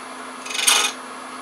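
A woodturning tool slices into spinning wood on a lathe, one brief scraping rasp lasting about half a second and standing out from a quiet background.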